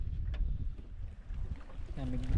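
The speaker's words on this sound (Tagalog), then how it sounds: "Lakas na ng hangin mga idol." Wind buffets the microphone in low rumbling gusts, with water lapping nearby and a voice speaking briefly near the end.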